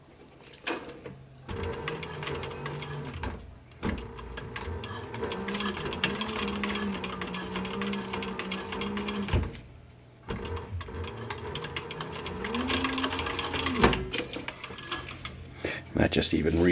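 A sewing machine stitches fabric for a sun visor, reinforcing a Velcro strip, its motor whirring in bursts with short pauses between runs; close and fairly quiet, with a voice talking over parts of it.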